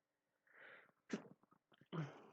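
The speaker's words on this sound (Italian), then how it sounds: "Scusate, ho starnuto." A single close sneeze from a chess commentator during a live game analysis, a short breathy build-up followed by sharp bursts, heard alone in a quiet room.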